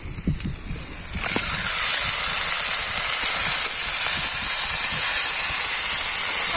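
A brief moment of quiet, then a loud, steady sizzling hiss of onion and ginger-garlic paste frying in a hot pan for a fish curry, continuing unbroken.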